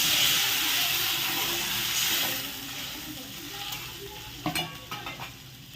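Something for a hilsa fish curry fries in a pan with a loud, hissing sizzle that gradually softens, then a few clanks and scrapes of stirring near the end.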